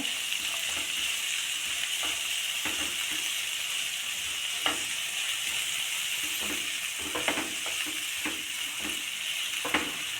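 Spinach sautés in a pan for gravy with a continuous, moderate sizzle, punctuated by repeated clinks and scrapes of a stirring spoon against the pan.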